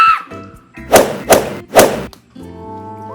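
A plush bomb toy drops and lands with three quick soft thuds in a row, loud and close, between faint background tones.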